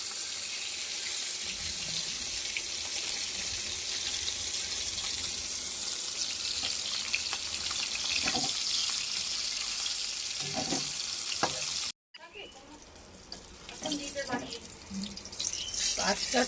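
Shrimp fry a few at a time in a pan with a continuous, close sizzle, broken by one brief cut before the hissing resumes with faint clinks.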